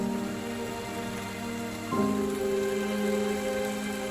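Steady rain hisses continuously over a low, constant hum during a storm, with no voices and no change in intensity.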